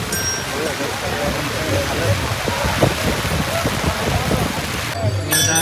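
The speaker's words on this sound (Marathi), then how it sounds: "एकदम मस्त पाऊस आलाय" Heavy monsoon rain pours steadily on a crowd of cyclists on pilgrimage to Pandharpur, a dense continuous hiss close by, with a brief clatter near the end and voices faintly under it.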